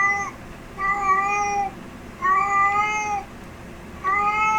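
House cat meowing through a pet camera speaker, four drawn-out, tonal meows in an even rhythm, clear and fairly close.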